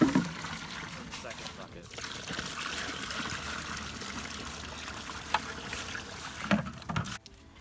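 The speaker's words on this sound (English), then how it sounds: "Now it probably will splash because we've got a big ice block in there." Maple sap with a big ice block is dumped into a boiling pan over a backyard wood fire, giving a steady close splashing and trickling rush throughout, with brief heavier splashes near the end.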